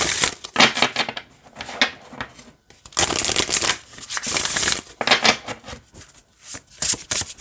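An oracle card deck is riffled in several close, crisp bursts, each a rapid flutter of cards snapping together, separated by short pauses and quiet handling.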